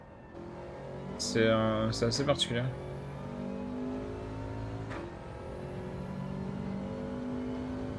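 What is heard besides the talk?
Group 4 race car engine revving in a racing video game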